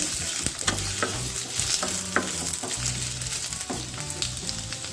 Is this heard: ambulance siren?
no